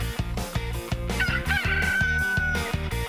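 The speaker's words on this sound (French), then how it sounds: "ce coq vient de chanter pour la toute dernière fois" A cartoon rooster crows loudly in one long drawn-out call over busy orchestral background music.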